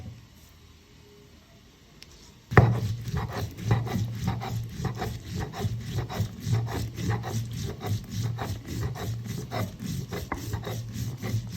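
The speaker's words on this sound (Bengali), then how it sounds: "সরষেটা এখন বেটে নিবে শিলপাটায়" After a quiet start, a steady, rhythmic rubbing and grinding of stone on stone begins as mustard seeds are ground on a flat grinding stone and pestle, repeating in quick strokes, close and continuous.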